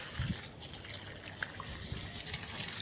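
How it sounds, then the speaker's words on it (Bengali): Water streams onto a tiny flowering plant in soil where seeds are sown, a steady close trickle and gush running for a few seconds with small splashes. "এত স্পিডে জল যে বীজ বাইরে উঠে আসবে, যা পুঁতেছি।"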